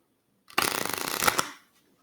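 A deck of playing cards is shuffled once during a card trick, giving a quick, close riffle of about one second that starts sharply and fades out.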